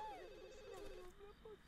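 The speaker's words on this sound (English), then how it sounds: "Somebody's calling him." A telephone rings in The Sims 2, a bright warbling electronic tone that sweeps and repeats over faint game background sound, with no one talking.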